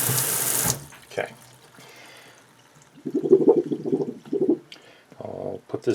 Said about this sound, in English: So now you want to rinse it with mildly warm water or cold water.